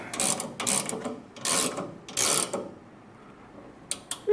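A ratchet wrench tightens the bottom ball joint on a 1957 Chevrolet Bel Air, with four bursts of rapid clicking close up, a pause, then a brief click.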